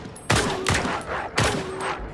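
Three loud, booming gunshots in a film scene ring out about a second apart, each with a long echoing tail, like a dramatic film soundtrack.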